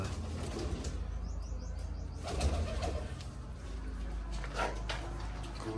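Pigeons coo softly and repeatedly at close range, with a few brief bursts of fluttering wings over a low background hum.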